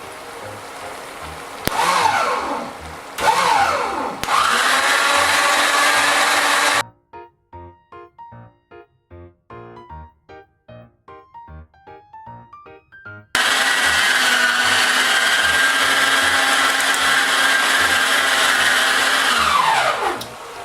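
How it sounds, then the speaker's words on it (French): An electric food chopper whirs loudly in long bursts, stopping briefly for a short stretch of quieter clicking before running again at full power. "Donc là la machine, je vais la laisser tourner quelques minutes. pour bien vider le hachoir"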